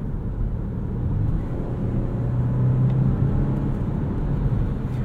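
A 2020 Volvo V60 Cross Country T5 AWD with its 4-cylinder engine driving, heard from inside as a steady low engine drone and road rumble that swells slightly midway, with no talking.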